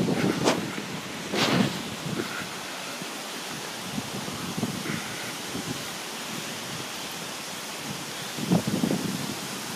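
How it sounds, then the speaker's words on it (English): Steady wind buffets a small horizontal-axis wind turbine up on a 20-foot tower, with a continuous broadband rush and a few louder gusts hitting the microphone, no voices. "Getting it in some good winds now."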